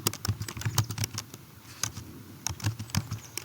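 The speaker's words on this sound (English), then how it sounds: "My typing skills are lacking here." Rapid, uneven clicking of keys on a computer keyboard, close and clear, with a brief lull partway through before the tapping resumes.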